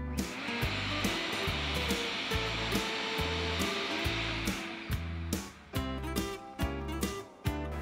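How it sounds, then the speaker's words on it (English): A loud, steady whooshing roar of a vacuum blowing and sucking inside the throat of a table saw, with a rhythmic thumping underneath and a few brief dips near the end. "The blowing and the sucking of the vacuum creates a vortex inside"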